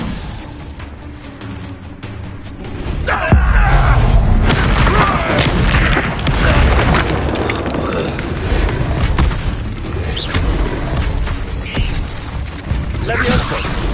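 A Confringo blasting spell explodes in a wizarding video game, a heavy booming blast a few seconds in followed by a rumbling crash and continuing clatter, with voices talking over the action.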